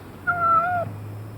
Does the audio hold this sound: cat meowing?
yes